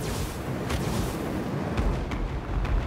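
Hell cannons fire in a Total War: Warhammer 2 battle, heavy booming blasts over a dense rumbling roar, several sharp thuds landing in irregular succession amid continuous battlefield din.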